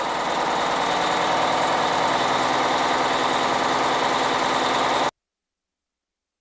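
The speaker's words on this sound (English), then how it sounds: "Start the engine" Cummins diesel engine running steadily at rated speed with no load, a loud continuous drone with dense rumbling texture that cuts off abruptly near the end, leaving silence.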